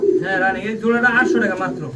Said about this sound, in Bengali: ফুল রানিং খুবই সুন্দর চিলা কবুতরের জোড়া